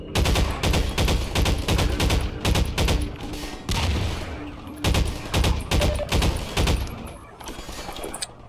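Rapid gunfire in the first-person shooter Half-Life 2, fired in long, loud automatic bursts with short pauses between them. The shots continue over most of the stretch and end in a quieter tail.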